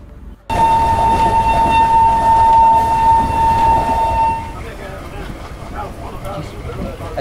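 Thar Express passenger train crossing the Thar desert in Rajasthan sounds a long, loud horn for several seconds over heavy rumbling rail noise, then keeps rolling steadily. A person speaks over it.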